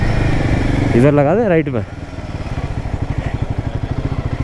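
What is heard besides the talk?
motorcycles being parked, engines running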